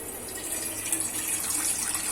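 Water streams steadily into a container, a soft continuous pouring hiss lasting a couple of seconds with no voices.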